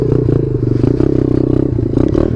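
Chinese pit bike engine fitted with a new cheap aftermarket air filter, revving hard in quick bursts up close, a loud rattly single-cylinder buzz rising and dipping over a few seconds.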